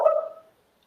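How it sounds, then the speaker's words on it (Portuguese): A dog barks once or twice at close range indoors, a short burst of yapping that fades out within half a second, with no talk over it. "Vocês estão vendo que o meu filho de 4 patas está querendo participar, né? Está latindo aqui."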